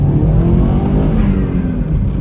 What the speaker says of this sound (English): All right, give it a little first gear rip.